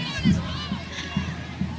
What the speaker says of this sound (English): Gotta love this lively crowd.